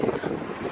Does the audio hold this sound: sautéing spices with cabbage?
no